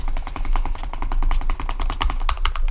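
Rapid, evenly spaced mouse clicks from butterfly clicking during Minecraft PvP duels, a dense loud rattling stream of sharp ticks close to the mic, running continuously without pause.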